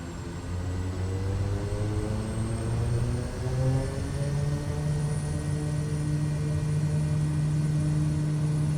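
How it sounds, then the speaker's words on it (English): A Cessna light aircraft taking off, its propeller engine droning steadily and rising in pitch as it gathers speed, heard from inside the cabin without talk. "What is it with the Cessna that it accelerates so quickly?"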